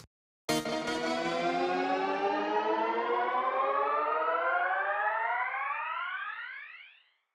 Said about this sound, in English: So already that's a pretty dope little riser